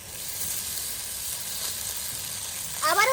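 Rice going into a pan of hot ghee, a soft continuous sizzle that swells and grows louder near the end with a brief tonal squeak, no talking.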